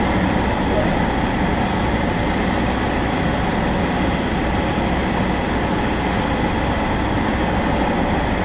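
A train runs on the West Cornwall Local route in the video game Train Sim World 2 on Xbox. It makes a loud, steady rumble with unbroken broadband rolling noise throughout.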